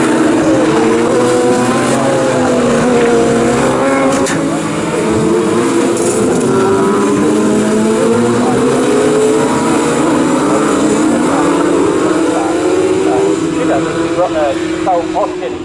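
Sports 1000 race cars racing at Snetterton, engines whining and droning as they pass, with shifting pitches under continuous commentary.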